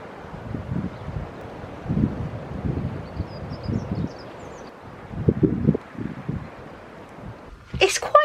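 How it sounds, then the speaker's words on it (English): Gusty wind blows outdoors beside a narrowboat, producing low buffeting rumbles against the microphone that swell and fade in irregular gusts, with a brief higher chirp-like sound near the end. "it's windy, but the sun's out and it's quite pleasant"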